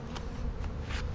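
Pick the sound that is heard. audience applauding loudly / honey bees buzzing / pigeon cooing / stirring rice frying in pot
honey bees buzzing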